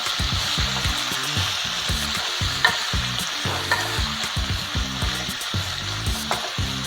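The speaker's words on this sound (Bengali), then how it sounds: "পালং শাকটাকে নিয়ে আমি ভালো করে নাড়িয়ে নেব।" Spinach sizzles in a hot pan as a utensil stirs it, with loud, steady frying hiss and repeated rhythmic scraping knocks against the pan, no talking.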